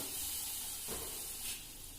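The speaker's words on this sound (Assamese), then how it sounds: "আমি 2 মিনিট মান ভাজি লম মছলাখিনি যাতে ভাজ খাই যায়" Spices and softened tomatoes fry in a pan for choley tikki, giving a soft continuous sizzle with a brief stirring swell midway.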